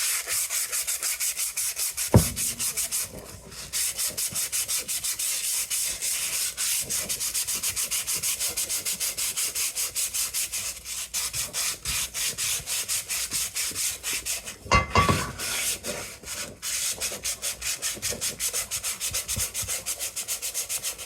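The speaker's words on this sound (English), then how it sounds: "sand it out" Steady, rhythmic rasping of 120-grit sandpaper scrubbing surface rust off a cast iron pot, close and continuous with brief pauses, including a short break near the middle.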